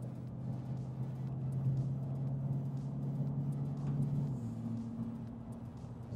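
Steady low engine drone of a car cruising and accelerating in sixth gear through a ZF 6-speed gearbox, a constant hum with a slight pitch rise near the end.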